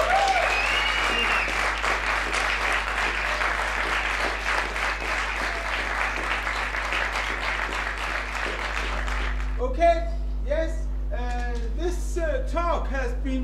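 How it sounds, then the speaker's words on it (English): Audience applause at a stage event, dense steady clapping for about nine seconds before fading into a spoken voice near the end. "let's applause Holger"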